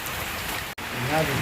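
Steady monsoon rain falls in a dense, even hiss, close by, with a brief cut in the middle and a faint voice underneath.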